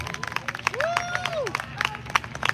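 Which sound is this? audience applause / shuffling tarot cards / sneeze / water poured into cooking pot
audience applause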